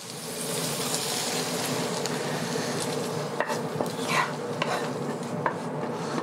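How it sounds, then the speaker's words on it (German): Sautéed onions being added and stirred into a pot of Bolognese sauce, giving a steady soft sizzle with scraping, stirring strokes that grow busier toward the end, close and with no talking. "Die fügen wir jetzt natürlich auch zum Bolognese-Topf hinzu."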